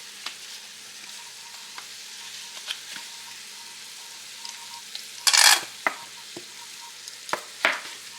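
Leftover meatloaf ingredients are stirred together with ketchup in a bowl, giving soft intermittent scraping and squishing strokes with a few louder wet bursts near the end, close by and without talk.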